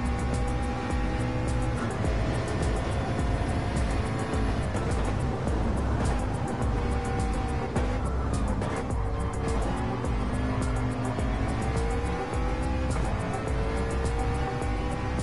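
A GT race car in a Hankook GT championship racing game, its engine roaring continuously and loudly up close, revs rising and falling through gear changes with faint tire noise underneath.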